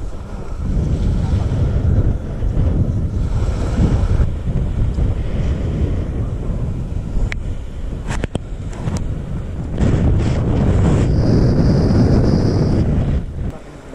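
Strong wind at a beach roars steadily across the microphone with a broad rumbling buffet, surf-like noise underneath, and brief gusty bursts throughout.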